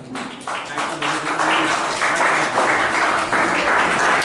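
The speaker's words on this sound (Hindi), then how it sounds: "सभी स्टूडेंट तालियों के साथ स्वागत करें" Students at a Teacher's Day event in Darbhanga clap together to welcome a teacher, the applause rising from a few claps into a dense, steady ovation that stays strong to the end.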